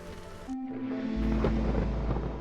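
Thunder from a storm in the video game Against the Storm rolls in as a deep, loud rumble that swells after a second and continues over a wash of rain-like noise.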